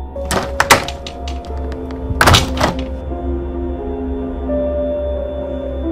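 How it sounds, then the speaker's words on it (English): A window being shut in a cartoon gives a pair of sharp knocks, then a heavier clattering thunk, followed by a quiet, lingering hum. "Marshall went over to close the window."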